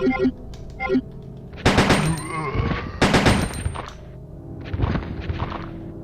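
Automatic gunfire rattles out in rapid bursts in the video game Resident Evil 2, loud and close with short pauses between volleys, over faint game background sound.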